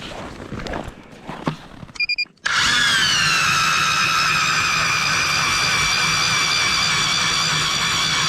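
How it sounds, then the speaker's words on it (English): A power ice auger starts up on a frozen Northwoods lake in Wisconsin, boring holes for ice fishing. It follows a few clicks and clunks, then a loud, steady, high whine runs on continuously up close. "We're gonna start drilling some holes."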